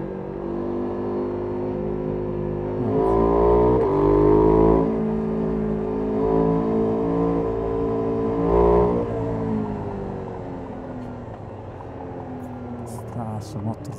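KTM 990 Duke motorcycle engine while riding, a steady loud drone with rising revs around the middle and a second surge later, continuous throughout with a voice talking over it.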